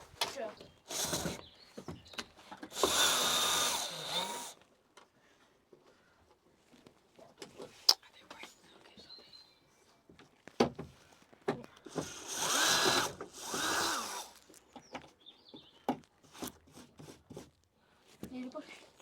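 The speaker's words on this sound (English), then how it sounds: "Give me the drill." Several short bursts of a whirring power drill fixing a backyard chicken coop door, each lasting a second or two, with people talking between and around them.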